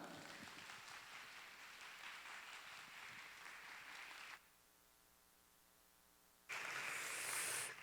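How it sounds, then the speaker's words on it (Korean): A church congregation claps warmly to welcome the pastor to the pulpit, a soft, distant wash of applause that drops to a low electrical hum for about two seconds before another burst of clapping. "우리 마음을 다하여서 뜨겁게 박수로 목사님 환영하겠습니다."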